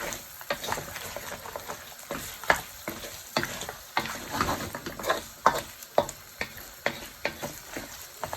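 Onions fry in a pan for aloo gosht, hissing with a steady sizzle while a utensil stirs and scrapes in repeated sharp strokes, close and unaccompanied by speech.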